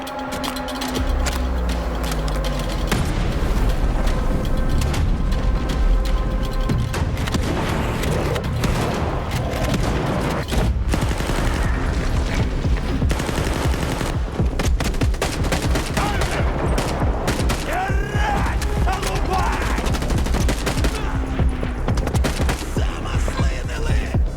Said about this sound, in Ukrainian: анімації, коли люди отримують постріли і впадають на землю